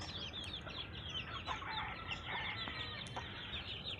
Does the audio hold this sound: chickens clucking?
yes